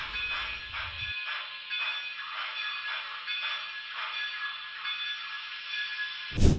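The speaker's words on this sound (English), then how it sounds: "the excursion train comes back to the yard after its second round of trips for the day" A small model steam excursion train hums and clicks steadily along the track onto a siding, with a faint high whine and rhythmic rail clatter, ending with a brief thump.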